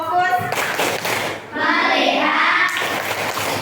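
A classroom of students doing a rhythmic focus clap, bursts of group clapping with mixed children's voices chanting along, loud and roomy.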